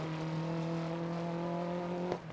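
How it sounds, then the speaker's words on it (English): A rally car engine in Dirt Rally drones with a steady harmonic hum, then cuts out with a short sputter near the end, heard alone at moderate loudness. "This engine sounded amazing when I first started. Now it just sounds like a dog barking repeatedly on loop."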